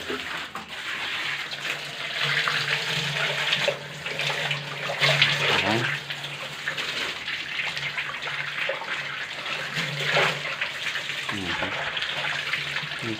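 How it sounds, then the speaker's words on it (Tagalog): Water spraying from a hose onto a pool filter during cleaning, a steady rushing hiss with shifting intensity as the stream moves, and a brief spoken word. "Saka natin siya ibombitin ng tubig."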